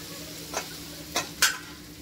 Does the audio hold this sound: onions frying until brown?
yes